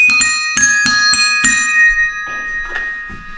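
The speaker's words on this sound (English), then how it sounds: "Desk bells." Desk bells rung in a quick series of about five bright, ringing strikes with long shimmering overtones, close and clear, followed by a few softer taps.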